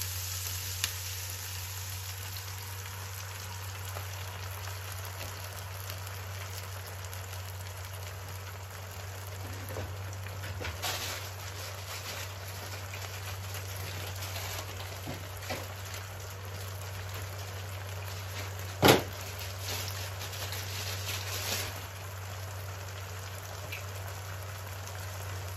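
Steady sizzling of sauce just poured into a hot pan for fish escabeche, a constant crackling hiss with a low hum behind it and a few sharp clinks, no talking.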